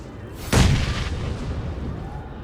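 Grenade explosion in a video game match, a single close heavy boom that hits sharply and then rumbles and decays over a couple of seconds.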